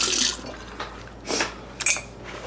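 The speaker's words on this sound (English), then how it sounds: "let me just rinse my hands real quick" Hands rinsed under a running tap in a kitchen sink while making bone broth, heard as several short splashy bursts of water, fairly close, with no talking.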